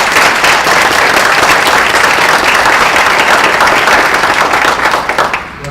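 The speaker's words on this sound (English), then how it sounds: "Let's give them all a round of applause." An audience at a women's leadership in technology and international relations talk claps in a loud, steady round of applause that holds for several seconds and then starts to thin out at the end.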